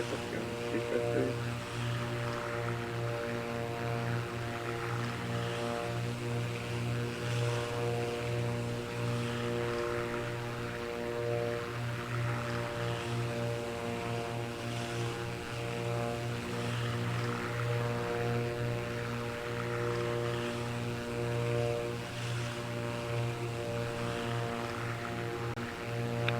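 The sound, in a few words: airliner taking off in a flight simulator video game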